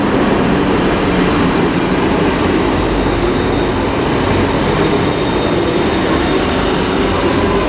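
A Class 334 electric multiple unit pulls away from Haymarket station bound for Helensburgh Central, a steady loud rumble of motors and wheels on rail with faint high whine, continuous throughout without speech.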